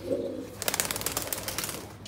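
A pigeon with freshly clipped wings, five feathers cut on one side, flutters and flaps in short bursts; a brief coo sounds near the start, then a quick series of close wingbeats follows.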